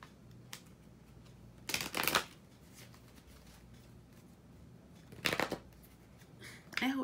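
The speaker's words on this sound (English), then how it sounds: "Let me pull one more card." Cards from a deck of reading cards being drawn and handled, a few brief crisp riffling bursts spaced apart over quiet background, close to the listener.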